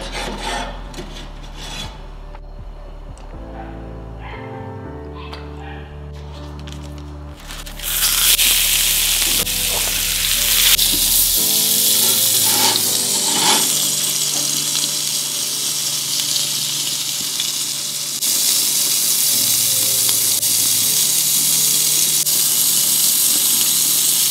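Oil sizzles in a very hot skillet pulled from an oven at about 500 degrees Celsius, a loud, harsh hiss that starts abruptly after quieter clattering and then holds steady and close, with no talking.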